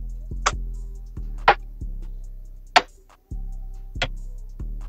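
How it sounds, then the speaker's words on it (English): Drum rim shots combined into a bouncy pattern ring out as sharp, bright cracks, four prominent hits spaced unevenly over a low sustained backing with softer clicks between, moderately loud and without talk. "I combined different rim shots just to achieve a unique bounce to them. They sound like this."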